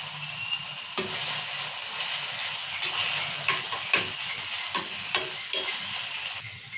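Ginger sizzles in hot oil for an egg curry while a spoon stirs it, making a continuous close hiss dotted with regular scraping taps against the pan, no voices over it.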